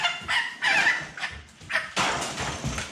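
Thirty-day-old Ross 308 broiler chickens cluck and call in short, close bursts, several overlapping squawks rising and falling across the moment with brief quieter gaps between them.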